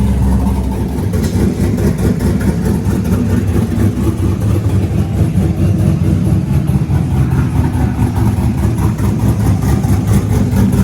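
A Chevrolet Camaro drag car's engine idles loud and close, a constant rumbling, lumpy drone with slight fluctuations throughout and no voices.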